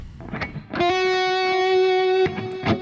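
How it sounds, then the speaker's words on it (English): A distorted electric guitar rings out after a few short picked notes, one long sustained chord holding steady with a gritty, moderately overdriven tone before fading into brief strums. "I'm starting with the medium distortion here on the beginning."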